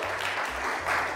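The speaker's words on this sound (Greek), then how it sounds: "Ένα χειροκρότημα." Brief burst of audience applause, dense steady clapping from a live crowd at a Christmas cooking show, filling the whole moment without speech.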